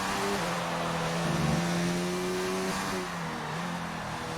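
Race car engines in a Japanese GP online racing game drone continuously, with several cars' tones overlapping and shifting pitch as they accelerate, fairly close and steady throughout.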